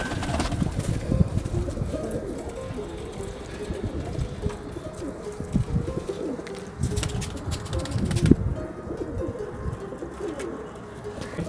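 Pigeons at a large loft of over 2000 pairs, many birds cooing in overlapping low murmurs, with wing flaps and shuffling close by, plus faint background voices.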